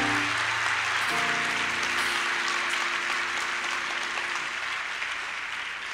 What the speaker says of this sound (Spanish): Eso merecía un mejor aplauso que eso